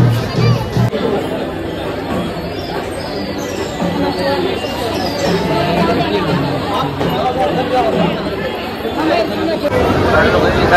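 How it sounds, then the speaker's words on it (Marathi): Dense crowd of pilgrims waiting in a queue for darshan at a temple in Maharashtra, a steady loud babble of many overlapping voices throughout, with close chatter on top. "इकडे पण दर्शनासाठी गर्दी खूप आहे"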